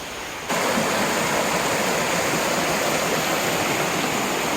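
River water flowing in Gir Forest near Junagadh, a steady broadband rush that swells up after a brief quieter start and then holds constant and fairly loud, with no voices.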